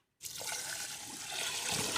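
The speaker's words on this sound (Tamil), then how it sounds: "நான் தண்ணியே இப்போ இதில் அரிசியில் ஊற்றிக்கலாம்" Water poured into rice for a mutton biryani cooked on a rooftop begins abruptly after a short silence, then keeps up a steady splashing trickle that grows slightly fuller toward the end, close and alone.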